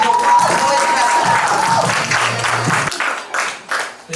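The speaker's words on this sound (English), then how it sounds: "Everyone give one huge Club F.U.C.I. round of applause for Gavin." An audience at a live music show applauds a performer, a burst of clapping and crowd noise that fades out over a few seconds as the stage settles.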